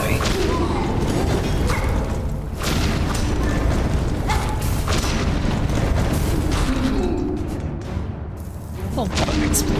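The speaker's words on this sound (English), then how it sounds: "A lot of explosions." Repeated booming explosions in the video game Hollow Knight: Silksong, heavy thuds and mechanical clanks recurring every second or two within a constant dense game soundscape, with someone talking.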